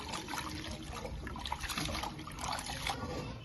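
Tap water runs steadily while goat tripe is being washed by hand, a continuous close trickle and splash with no voices over it.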